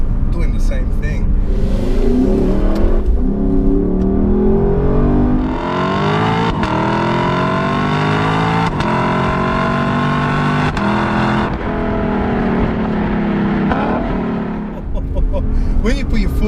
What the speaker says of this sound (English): When you put your foot down in that Sport S Plus, oh my gosh, the car does like to fly.